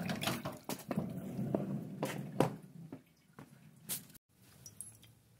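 Fuel drains from an old Wheel Horse tractor, wet squishy drips and splatters landing in irregular bursts close by, fading toward quiet near the end.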